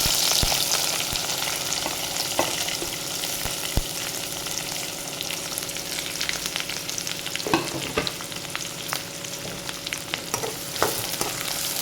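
Onions frying in oil for a spinach fry make a steady, moderate sizzle, broken by irregular clicks and scrapes from close-up stirring.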